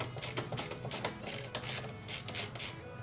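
A ratchet wrench with a T25 Torx bit clicks rapidly while backing out a screw on the airbox of a Volkswagen MK7 GTI during a cold air intake install, close and rhythmic with steady pawl ticks.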